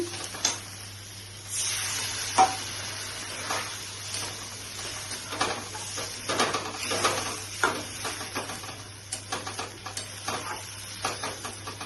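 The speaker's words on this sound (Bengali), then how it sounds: "এখন আমি জল দিয়ে দিচ্ছি" Water goes into a hot pot of Bengali potoler ghonto, a pointed-gourd dish with gobindo bhog rice, bringing uneven bursts of hissing sizzle and scraping stirs that swell and fade, with a quieter gap early on.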